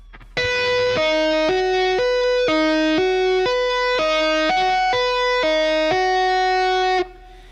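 Clean, undistorted electric guitar notes tapped in a steady repeating pattern, alternating two pitches evenly, clear and close with no other sounds.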